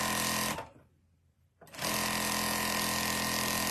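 Sewing machine stitching a quilt border, running steadily and close by, stopping for about a second mid-run before resuming at the same even pace.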